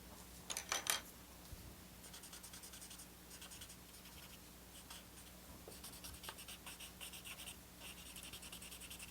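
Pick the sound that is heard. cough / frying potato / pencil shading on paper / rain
pencil shading on paper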